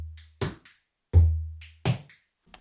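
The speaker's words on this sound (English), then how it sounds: "So I've added a slight bit of kind of phaser effect to the drums." Electronic drum hits with a light phaser effect: four separated beats with deep kick-like low thumps and sweeping upper hiss, sparse and fairly close, with no voices.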